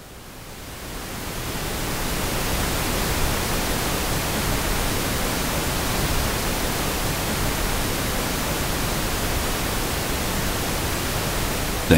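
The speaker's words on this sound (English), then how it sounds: "The pink noise tracks are great to check if the speakers or speaker stacks sound roughly the same tonally" Steady broadband pink noise test signal from a 1990s hi-fi and sound system test CD, a continuous, even hiss that holds at constant loudness after a brief fade-in, with no voices.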